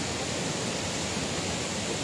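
Cascade de la Billaude waterfall roars as a steady, dense rush of falling water that fills the whole moment without pause or change, loud and near, with no voices.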